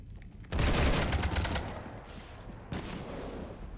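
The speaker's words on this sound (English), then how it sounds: "You want to stop shooting up my ship?" Sustained video-game gunfire in Mass Effect 3 shooting up a ship, a dense loud burst starting abruptly and rattling on for about two seconds, then a second volley of shots, with no talk.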